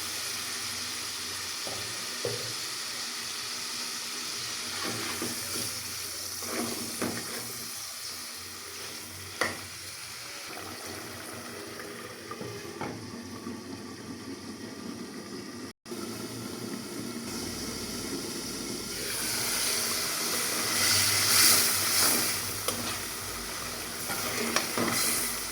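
Fish frying and sizzling in a spice masala, a steady crackling hiss with stirring scrapes throughout, growing louder and busier toward the end, with no talk.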